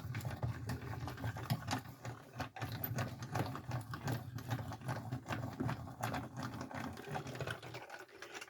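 A die-cutting machine runs steadily with a dense, low mechanical whir and rapid rhythmic clatter, close and continuous throughout, with no talking.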